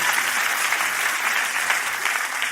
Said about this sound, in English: the applause died down